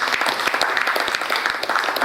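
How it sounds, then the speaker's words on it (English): A crowd applauds continuously at a tribute event, dense overlapping claps at steady volume throughout, fairly close and lively. "So I'd like to thank them with a round of applause."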